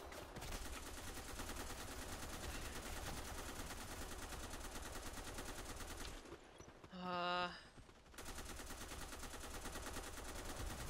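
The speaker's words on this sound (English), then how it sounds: "Hey, sentry gun, shoot!" A sentry gun in the Black Squad shooter fires continuous rapid bursts, loud and steady, cutting out briefly for a short electronic tone before the gunfire resumes.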